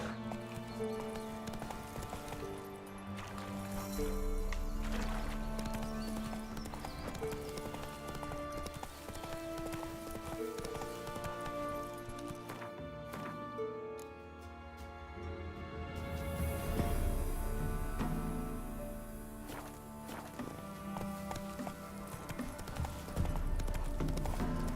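Horse galloping in The Witcher 3: Wild Hunt, steady rhythmic clip-clop of hooves running continuously under game music, with an occasional neigh.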